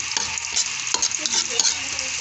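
Ginger and fish sauté in a hot pan for a bitter gourd dish, giving a close, continuous sizzle broken by clinks and scrapes of stirring.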